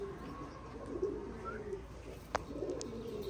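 Racing pigeons coo faintly in low, rolling murmurs, with one brief sharp click partway through and no talking.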